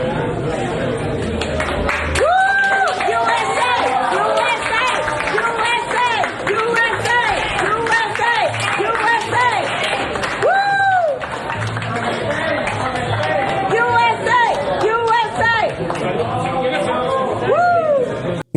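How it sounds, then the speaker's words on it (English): Dining room guests at Doral clap for Donald Trump after his meal, sustained applause mixed with cheering and loud crowd chatter close by throughout. "Trump's Doral guests clapping for him after finishing his meal in the dining room"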